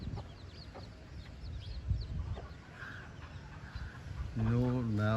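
Chickens cluck on a poultry farm, soft scattered clucks and calls at a moderate distance, with a person speaking over them toward the end.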